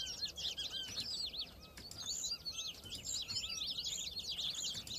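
High, thin waxwing calls trill and chirp almost continuously over a soft background hum, faint and somewhat distant, in a modded Minecraft game.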